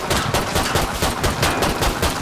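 Rapid gunfire from the video game Killing Floor 2 fills the scene, dense overlapping bursts of shots crackling continuously at close range, with no talking.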